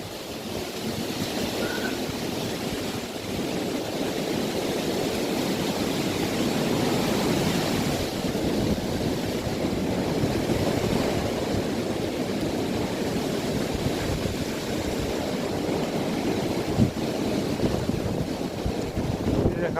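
Strong wind blasts across a mountain summit at Khao Wong Phra Chan, a loud continuous roar buffeting the microphone with gusty swells throughout.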